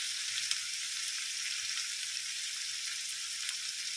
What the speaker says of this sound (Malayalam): ഇതെല്ലാം ഒന്ന് വഴണ്ടി വരണം, നല്ലതുപോലെ വഴണ്ടി വരണം.